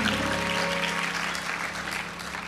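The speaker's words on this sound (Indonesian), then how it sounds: "Tepuk tangan buat Tuhan." A church congregation claps for God during a sermon. Dense, even clapping fills the room at moderate level and fades slightly toward the end, with a faint tonal hum underneath and no one speaking.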